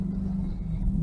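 A 1995 BMW M3 with an intermittent check engine light drives along in a steady, low engine rumble heard from inside the car, continuous with no talk.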